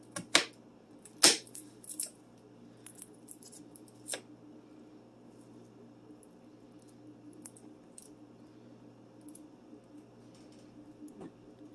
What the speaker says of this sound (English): Just going to cut a little bit of garlic.